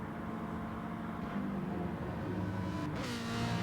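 A race car in GT Sport at Monza during an overtake, heard as a steady engine drone with a rising rev toward the end, fairly faint and continuous with no talk over it.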